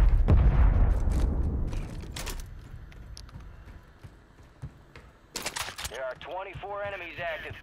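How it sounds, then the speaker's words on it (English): Explosions and gunfire in the first-person shooter game Call of Duty: loud booming bursts at the start, another near two seconds and a sharp blast past five seconds, with voices talking near the end. "Yeah, I'm hearing explosions"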